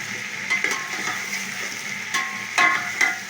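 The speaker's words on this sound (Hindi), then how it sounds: "और गोश्त को अच्छी तरह भून लूंगी।" Mutton frying with yogurt in a pot gives a steady, close sizzle, with several sharp spoon-scraping clinks against the pot scattered through it.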